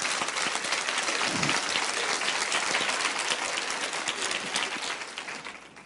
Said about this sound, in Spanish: aplauden al Señor si quieren, ¿verdad?